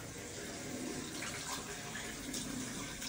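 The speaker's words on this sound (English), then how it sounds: "And the shower is hot." Hot water runs from a shower, a steady, even hiss of spray that continues unbroken at moderate distance, with faint voices in the background.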